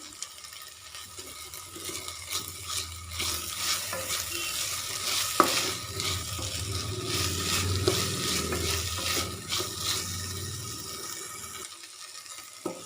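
Sliced onions and green chillies sizzle and crackle in a hot pan while being stirred, a steady frying hiss with occasional scraping.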